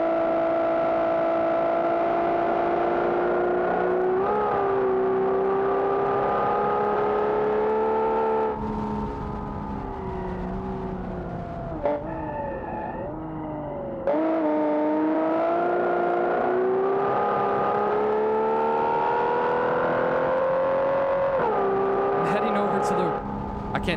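A loud car drives in the Automation car-building video game, its engine holding a steady buzzing drone that rises and dips with throttle for the whole stretch, with a brief lull partway through.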